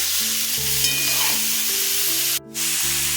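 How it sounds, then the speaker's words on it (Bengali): Cauliflower pieces frying in mustard oil in a pan, a loud, steady, close sizzle with light stirring scrapes and a short pause near the end. "কপিগুলো ভাজা হয়ে গেছে দেখুন তুলে নিচ্ছি"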